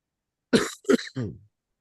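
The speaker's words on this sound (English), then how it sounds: "I still got that cough" Three quick, close coughs in a rough, throat-clearing burst, with silence around them.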